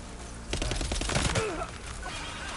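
Gunshots in Death Stranding 2 go off as a quick cluster of sharp reports over a low background, with faint game sounds trailing afterward.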